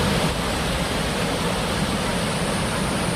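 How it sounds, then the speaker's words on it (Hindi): The Karkatgarh waterfall on the Karmanasha river sends water pouring down from above in a close, loud, unbroken rushing roar that holds steady throughout, with no voices over it. "ऊपर से गिरता हुआ पानी आप देख सकते हैं।"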